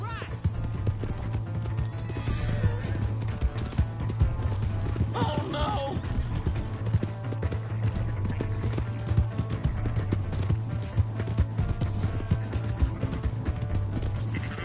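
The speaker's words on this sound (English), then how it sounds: "That's my horse!" A horse gallops in the Western open-world game Red Dead Redemption 2, rhythmic hoofbeats clip-clopping steadily beneath a droning music bed, with creaks of tack and a brief whinny; a voice briefly exclaims over it.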